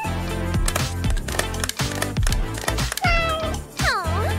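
Cartoon cat meows in a video game set in a digital circus: two loud, bending meows near the end, over busy game sounds and thumps.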